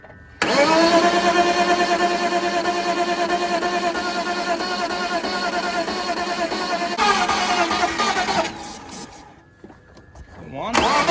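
A BMW E46 engine cranks continuously for about eight seconds, a loud, even starter whir that never catches, then drops away with brief trailing sounds.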